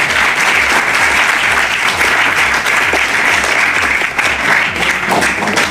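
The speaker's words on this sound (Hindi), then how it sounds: "ताली बजाओ" A roomful of Delhi government school students on an industrial visit claps loudly and continuously, a dense close wall of applause with no break.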